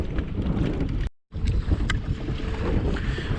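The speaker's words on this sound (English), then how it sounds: "A little windy today. Wind's picked up." Gusty wind roars against the microphone on open water from a fishing boat, loud and continuous with a brief drop partway through.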